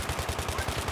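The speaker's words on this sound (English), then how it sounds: "Gunshots by B." Rapid automatic gunfire in the video game Squad, a fast, even burst of shots heard at a moderate distance and fairly faint.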